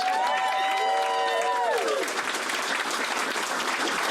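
A crowd at a Canadian conservative campaign rally in Burlington applauds steadily, with a voice speaking briefly over the clapping at the start.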